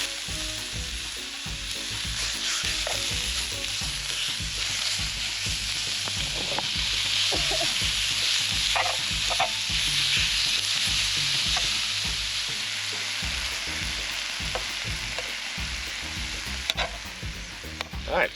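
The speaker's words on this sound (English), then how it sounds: "It's already pre-seasoned, just needs to go in here and sizzle up." A pre-seasoned steak sizzles loudly in a pan at a riverside campsite on the Wisconsin River, a continuous hissing fry with faint stirring and scraping, no talk.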